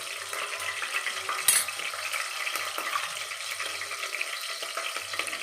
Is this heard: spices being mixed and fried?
yes